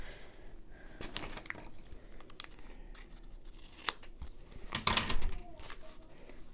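Scissors snip through a paper sack in a few quick crisp cuts, the last ones louder and closer, with light rustling and handling noise around them.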